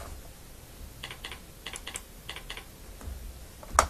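Typing on a computer keyboard: a series of light, close key clicks in short uneven bursts, quiet with small pauses between groups and no voices.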